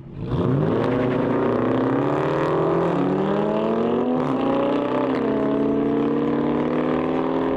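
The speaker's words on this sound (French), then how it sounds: "Oh le bruit! Oh le V8!" Loud V8 engine of a Dodge Challenger racing a Jaguar F-Type down an airstrip, a sustained roaring drone that climbs steadily in pitch through several gear changes, close and powerful throughout.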